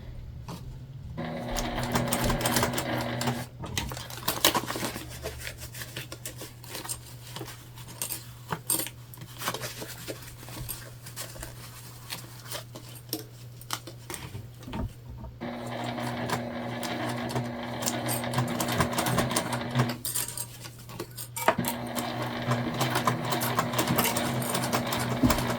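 Sewing machine stitching the corners of an Explorer sling bag, running in steady bursts with short pauses between runs and a constant low motor hum beneath, close and clear with no talk.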